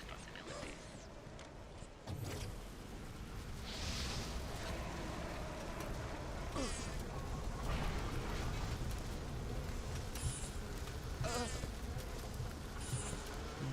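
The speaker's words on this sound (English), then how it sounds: "I'm being attacked by bees." Swarming insect buzz from attacking bees in BioShock Remastered, a steady droning hum running throughout the game scene with a few sharper accents, loud and close.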